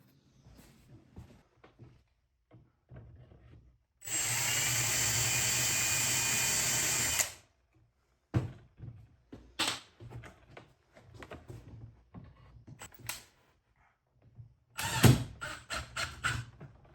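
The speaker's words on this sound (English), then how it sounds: "I'm gonna pre-drill these holes so I don't crack the wood and I don't destroy the plastic." A power drill pre-drills holes through plastic into wood during a Milwaukee M18 Bluetooth speaker build: one loud, steady whine lasting about three seconds, surrounded by quieter clicks, creaks and handling knocks.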